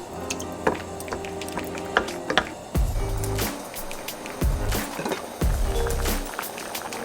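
Water heated with ginger in a pot as cooked rice is added for rice porridge, giving gentle drips, splashes and small liquid pours with light clatter close by.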